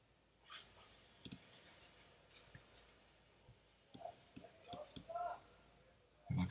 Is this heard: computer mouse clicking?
yes